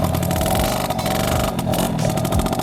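A two-stroke Yamaha Alfa II R motorcycle engine revs steadily and loudly up close, its dense buzzing note holding throughout with small rises and dips and no talking.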